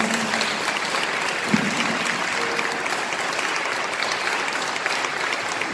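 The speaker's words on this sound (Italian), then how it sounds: "Ancora un applauso per te." Concert audience applauding a singer with a swing band, a steady, moderately distant wash of many hands clapping without pause, fairly even in level throughout.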